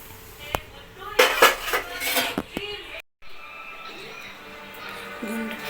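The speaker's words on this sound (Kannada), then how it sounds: "ಪಾತ್ರೆ ತೊಳಿಯಿಂಗ್" Dishes being washed by hand in a home kitchen: metal pots and plates clink and clatter in irregular bursts, fairly close, with people talking over the clatter.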